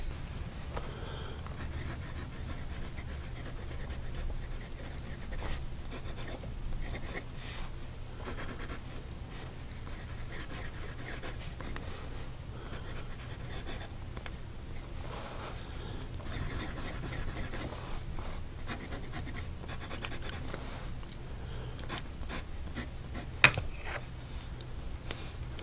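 Moonman N3 fountain pen with a medium nib writing on paper, a faint, continuous close-up scratching with small strokes and pauses, one sharp tap near the end.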